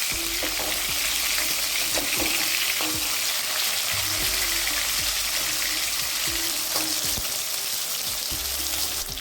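Rohu fish pieces finishing in hot oil, a loud dense sizzle close by with intermittent sharp clinks and scrapes of a spatula against the pan as pieces are turned and lifted, no talk.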